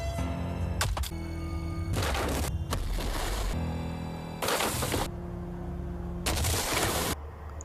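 In the Hello Neighbor video game, a shadow boss's attacks are deflected and it explodes: about five loud, harsh crashing bursts in uneven succession over a droning tonal game soundtrack, with no talking.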